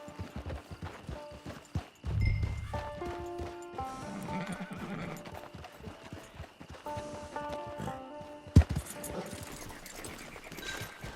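Horse hooves clip-clop steadily in the Red Dead Redemption 2 video game, with a horse neighing, set among game music and ambient sounds, moderately loud with a sharp thump near the end.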